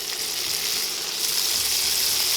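Vegetables and tomatoes fry in olive oil in a pan for a keto zucchini-noodle dish, giving a steady, loud, close sizzle that continues without any talking.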